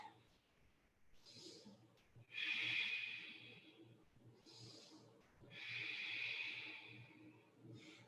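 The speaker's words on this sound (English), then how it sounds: "Full deep breath." A slow, full deep breath taken during a yoga stretch, with two long airy inhale-exhale cycles close to the microphone, soft and breathy against a quiet room.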